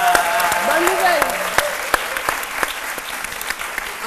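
Studio audience on a midday Ivorian TV show claps for the country's blog World Cup win, a steady wash of applause with a few sharper individual claps, mixed with music and a voice underneath.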